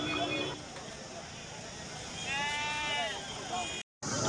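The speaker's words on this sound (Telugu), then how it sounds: "మన కదిలో అయితే ప్రతి మంగళవారం గొర్రెల మేకల సంత అయితే జరుగుతుంది" Sheep and goats bleat at a busy weekly livestock market yard in Kadiri. A clear wavering bleat rises midway over a constant bed of crowd murmur and outdoor noise.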